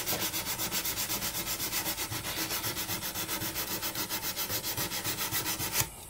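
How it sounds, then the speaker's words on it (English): A mosaic table edge is rubbed with 180 grit sandpaper in fast, steady back-and-forth strokes, a close rhythmic rasping that runs about six seconds before stopping abruptly. "you take your 180 grit sandpaper"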